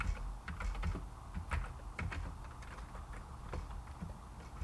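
Code is typed on a computer keyboard in a steady run of light, close key clicks with uneven rhythm, heard alone.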